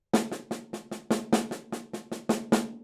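Evenly spaced snare drum strokes grouped in triplets, about a dozen crisp hits played alone at a steady moderate pace, with regular accents marking each group, from a jazz drum roll exercise.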